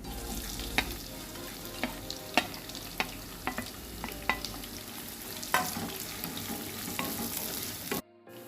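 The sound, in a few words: onion frying in oil in a kadai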